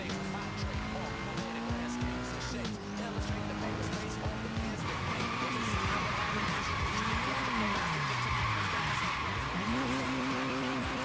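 A Nissan Silvia S15 Spec-S drifts in the Forza Horizon 3 racing game, engine revving and tires squealing in long continuous skids, loud and close throughout, with a voice speaking over it.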